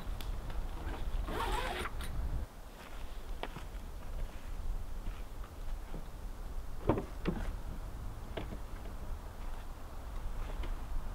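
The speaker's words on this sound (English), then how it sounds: "So let's zip this up and let's grab a beer." A zipper on a truck camper's fabric door or window is pulled shut in one long, close, rasping stroke. A few shorter zip tugs and soft fabric rustles follow against steady outdoor background noise.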